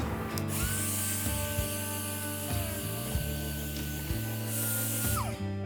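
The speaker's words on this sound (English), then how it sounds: "take the little 3-inch sander and you're gonna sand the paint off" A small 3-inch power sander works paint off a plastic bumper, giving a steady high whine that dips briefly several times as the tool is eased off and pressed back on, close and without speech.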